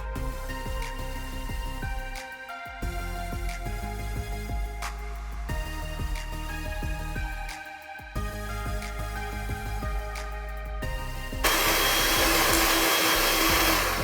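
An electric mixer beats peanut butter buttercream in a steady, close whirring drone that dips briefly twice, then turns louder and harsher for the last couple of seconds.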